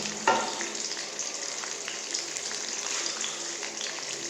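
Almonds fry in a pan with a steady bubbling sizzle, opened by a single sharp knock of a utensil, with faint stirring scrapes underneath and no talking.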